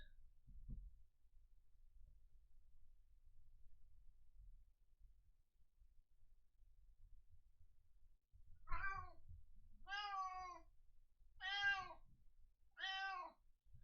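A house cat meowing four times in a row, clear, drawn-out cries following one another after a long quiet stretch with a low background hum.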